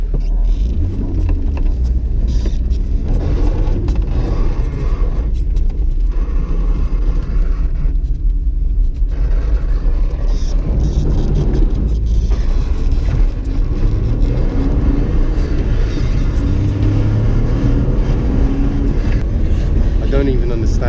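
A BMW E36 drift car cruises along, its engine a continuous low, heavy rumble with road and wind roar close around the cabin, while voices talk over it throughout.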